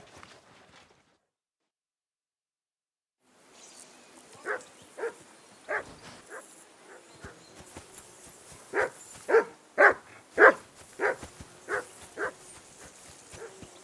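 A dog barks in a medieval outdoor riverside camp in a video game, a run of about a dozen moderate barks after a quiet pause, irregular but bunched, over faint ambient background.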